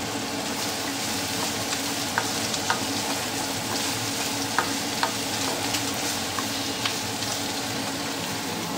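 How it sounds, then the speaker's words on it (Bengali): Potatoes frying in oil with black cumin and green chili, a steady close sizzle with occasional sharp spatula clicks against the pan, no talking. "এই যে আলু ভাজাটা, কালো জিরে দেব, কাঁচা লঙ্কা দেব।"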